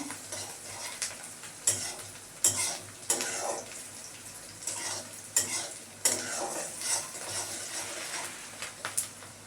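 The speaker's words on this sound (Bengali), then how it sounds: "পেঁয়াজটা ভাজা হয়ে এসছে। এবার আমি রসুনের টুকরোগুলোকে দিয়ে দেবো।" Onion and garlic frying in a pan while being stirred, with repeated scraping strokes and a soft sizzle underneath, close and moderately loud, no talking.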